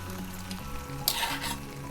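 Spinach and paneer fry in a pan, giving a continuous close sizzle with stirring scrapes and a brief louder hiss partway through.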